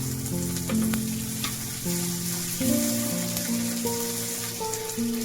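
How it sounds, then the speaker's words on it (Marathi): Chopped onion and tomato frying in a pan, a steady close sizzle and crackle running throughout with occasional stirring, with a tonal hum in the background. "छान भाजून घेऊया नंतर मसाले टाकू कारण आपला चांगला भाजलाय"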